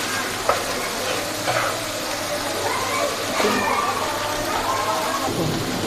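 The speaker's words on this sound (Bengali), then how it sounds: "এটা যত ভাজা ভাজা হবে তত খেতে সুস্বাদু হবে" Chhana sweets fry and sizzle in a pan with a steady crackle, broken by several scraping stirs of a spoon, close and fairly loud throughout.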